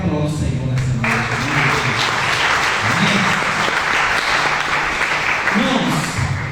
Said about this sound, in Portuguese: Se você crê, aplauda o Senhor nessa noite.